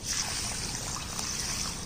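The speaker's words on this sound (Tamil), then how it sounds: "இதை இப்போ தண்ணி ஊற்றி 4 மணி நேரம் ஊற வச்சுருவோம்." Water poured over pearl millet, urad dal and fenugreek seeds in a cup to soak, a steady close trickle lasting under two seconds with no speech.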